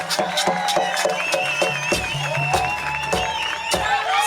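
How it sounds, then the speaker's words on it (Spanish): Crowd applause at a 2015 La Arena town festival, steady clapping with cheering voices and music underneath, fairly loud and continuous throughout. "Aplauso, aplauso para Amar"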